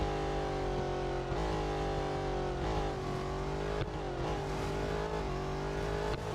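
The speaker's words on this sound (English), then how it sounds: "This car is a struggle to drive." Race car engine in Real Racing 3, revving steadily near 190 mph, with gear-shift dips and rising pitch sweeps, loud and continuous without talk.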